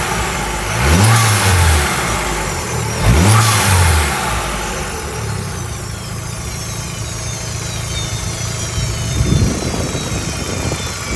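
A Proton Exora Turbo engine revs hard twice in quick succession, rising and falling each time, then settles into a steady idle before one last short blip of the throttle, loud and close with no talking.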